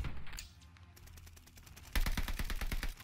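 Rapid bursts of automatic gunfire from the video game Call of Duty: Vanguard in a Search and Destroy match, a few scattered shots followed by a loud, close, fast string of rounds.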